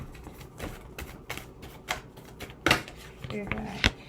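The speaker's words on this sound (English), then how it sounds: "I'm going to shuffle now." Tarot cards are shuffled in a quick series of soft riffling taps and slaps, close up, with a couple of sharper snaps.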